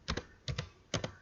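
Keys on a computer keyboard are tapped while a formula is entered in Microsoft Excel, three close paired clacks spaced evenly apart, crisp and nearby in an otherwise quiet room.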